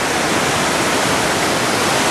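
Waterfall at Yabakei in Japan, a steady, loud and close roar of falling water that fills the whole stretch without a break.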